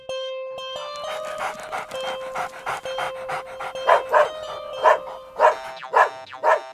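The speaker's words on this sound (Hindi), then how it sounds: "क्यों भौंक रहे हो?" A cartoon dog in an animated Hindi story pants rhythmically and gives short barks, loud and close, with the sound growing stronger toward the end.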